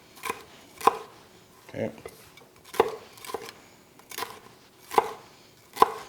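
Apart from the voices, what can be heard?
knife rough chopping ingredients in strips for smoked brisket chili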